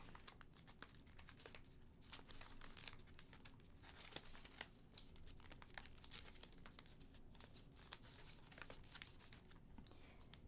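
Sheet of paper repeatedly creased, unfolded and refolded while folding an origami crane, giving a steady run of soft crinkles and crisp snaps, close and quiet, with no voices.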